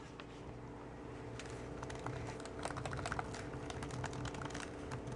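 Fingers type on the shallow-travel chiclet keyboard of a Samsung Series 9 NP900X3B notebook, a quick irregular patter of soft plastic key clicks running steadily throughout over a low room hum.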